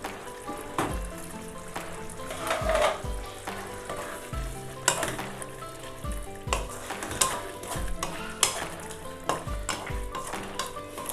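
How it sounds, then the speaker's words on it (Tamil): Ridge gourd cooked with tamarind and coriander leaves is stirred in a pan for a Tamil kadaisal, with steady close frying sizzle and repeated scraping strokes of the spoon against the pan, no voices. "இப்போ நம்ம புளியும் கொத்தமல்லி தழையும் போட்டு பெரட்டிட்டு நம்ம கடைஞ்சிடலாம்"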